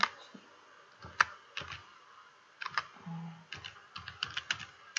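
Someone types text on a computer keyboard while working in Krita drawing software, producing quiet, irregular clusters of close key clicks separated by short pauses.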